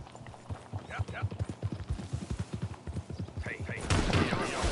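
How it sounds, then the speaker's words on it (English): Rhythmic horse hooves clip-clopping while riding in Red Dead Redemption 2, a steady run of loud, close beats with a burst of game noise near the end. "I'm just trying to ride my horse and apparently I can't drive it neither."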